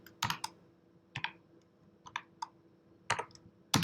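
Python code is typed on a computer keyboard in quick, uneven clusters of crisp key clicks, close and fairly quiet, with short pauses between bursts and no speech.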